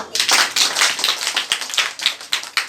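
A group of students at a school claps in a quick, lively burst of close, sharp hand claps lasting a few seconds.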